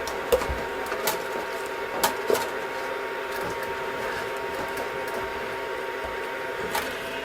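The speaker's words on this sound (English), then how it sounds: "threading in the filament is as easy as can be" A Longer Cube2 3D printer loads filament, giving off a steady mechanical whir and hum broken by a few sharp clicks, close and moderately loud.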